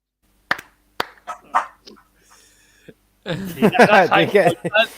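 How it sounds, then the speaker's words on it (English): A dog gives a couple of sharp barks, then whimpers and yips, followed by excited chatter and laughter. "We got two barks instead of claps."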